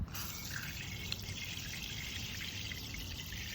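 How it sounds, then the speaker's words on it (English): Tap water runs steadily into a container to mix a household shoe cleaner, a continuous hissing trickle at close range with no talk over it. "Just gonna get some water in there."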